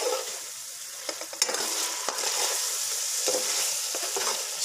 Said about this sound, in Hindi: एक अब इस तमाम मसाले को हम अच्छी तरह भूनेंगे।